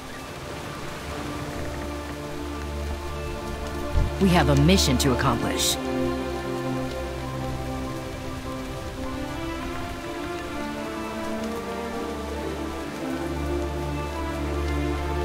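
Steady rain falls in World of Warcraft's Exile's Reach, a continuous soft patter beneath game music and spoken character dialogue, with a brief swelling effect partway through.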